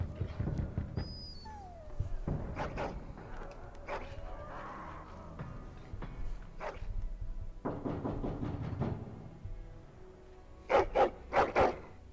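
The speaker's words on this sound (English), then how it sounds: "this is why I tolerate my dog barking at night" Dog barking inside the fantasy video game Dragon Age: Origins, a few sharp bursts near the end over a bed of game music and drums with clanking ambience.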